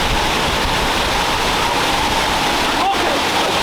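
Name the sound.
waterfall in the Brecon Beacons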